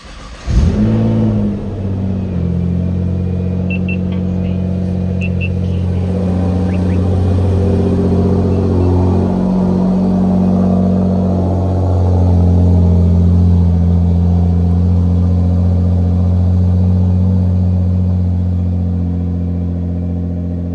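A 2015 Nissan GT-R starts up with a sharp cranking burst, then settles into a loud, deep, steady idle rumble close by, with a slight rise in engine note partway through and no talking over it.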